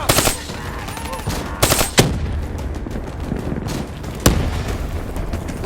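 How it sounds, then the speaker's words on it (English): In a Call of Duty Black Ops 3 firefight, sharp bursts of automatic gunfire crack out repeatedly, punctuated by a few hard booming blasts from a grenade, all loud and dense with battlefield clutter. "Grenade going out!"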